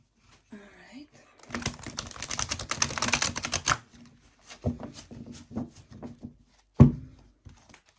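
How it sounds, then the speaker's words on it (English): A tarot card deck being shuffled by hand: rapid riffling flutters and soft card slaps, close and crisp, with a long burst of clattering cards in the middle and scattered taps around it. "This deck never disappoints when it comes to shuffling."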